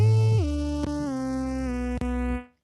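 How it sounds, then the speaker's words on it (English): A synth instrument built from Operator devices in Ableton Live sounds a sustained tone that steps down in pitch, with soft percussive ticks, then cuts off cleanly; alone, no voices. "I have a synth instrument that I built for this presentation"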